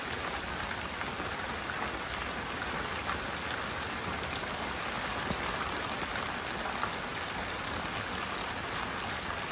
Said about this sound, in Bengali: সারাটা দিন বৃষ্টি কিন্তু টিপটাপ করতেই আছে, বৃষ্টি কিন্তু বন্ধ নাই।